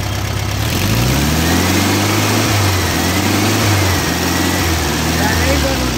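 A Volkswagen Beetle engine runs loud and steady with rising and falling revs, a low rumbling tone close by, while people speak over it.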